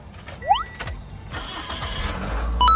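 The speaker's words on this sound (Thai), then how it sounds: "ขอฟังเสียงเครื่องยนต์สักนิดนึง" A 2012 Toyota Altis 1.6E automatic's engine turns over and settles into a steady idle, preceded by brief mechanical creaks and whirs up close.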